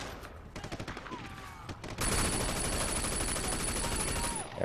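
Gunfire in the Sleeping Dogs video game, rapid bursts of shots, sparse at first and then a dense, loud, continuous fusillade with ringing tones over it.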